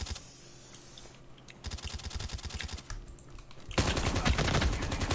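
Rapid automatic gunfire bursts from the mobile battle royale game Call of Duty Mobile, sharp repeated cracks growing denser and louder toward the end, with keyboard-like clicking mixed in.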